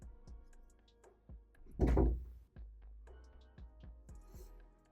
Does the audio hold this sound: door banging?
yes